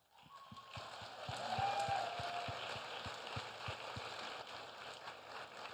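Audience applause fills a conference room during a fireside chat, a steady wash of clapping that swells and then holds at a moderate level throughout, with no talking over it.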